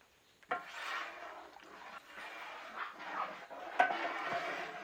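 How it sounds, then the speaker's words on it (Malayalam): A spoon stirs red Loobikka pickle gravy in a pot, giving soft scraping and rubbing strokes with light knocks against the pot, quiet and close, with no talking. "ഒന്ന് ഇളക്കി കൊടുക്കാം."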